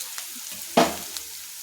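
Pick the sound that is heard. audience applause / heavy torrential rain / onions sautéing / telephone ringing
onions sautéing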